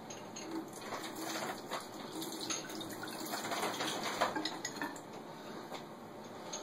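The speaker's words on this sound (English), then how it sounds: "We're going to pour it through the strainer here." Water and tomato seeds pour through a kitchen strainer, a continuous splashing trickle with light metallic clinks, close and fairly quiet.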